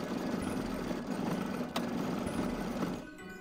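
A sewing machine stitches the front of a hood on a homemade Christmas dress, a steady fast mechanical whir and rattle running close and continuous before easing off at the end.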